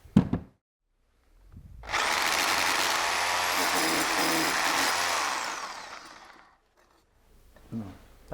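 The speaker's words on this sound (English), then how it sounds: "Drill that out at 12 and then follow up with a 16." An SDS drill with a 12 mm bit bores into the mortar bed of a brick wall, a loud, harsh grinding roar that runs steadily for about four seconds and then winds down. Short knocks are heard before and after.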